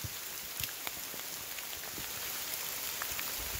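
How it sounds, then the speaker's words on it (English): Steady rain falls on the Appalachian Trail near the top of Blood Mountain in Blairsville, Georgia, a faint, even hiss with scattered soft drops and no voices. "It's a little bit rainy here."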